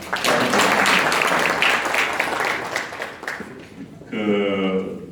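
A large audience at a Lions Clubs briefing event breaks into dense, loud applause that holds for about three seconds and then tapers off. A voice speaks over the final moments.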